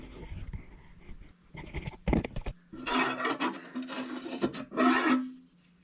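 Rough scraping bursts in several uneven strokes, with gritty rasping at close range and short pauses between, as crud and gritty rust are dug out of a metal cavity.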